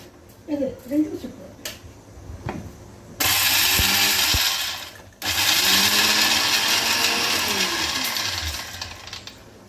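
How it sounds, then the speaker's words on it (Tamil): A mixer grinder whirs loudly as it grinds the sambar paste ingredients with water, running in two long bursts with a brief stop between them, after a few seconds of nearby talk and kitchen clatter. "எப்படி அரைக்கணும்? நைஸா அரைக்கிட்டா குறகுறன்னு அரைக்கிட்டா?"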